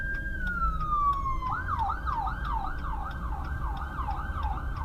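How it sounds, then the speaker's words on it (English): An ambulance siren passes on a road, first a long falling wail and then a fast repeating yelp cycling steadily over a low traffic rumble. "oh, there's an ambulance."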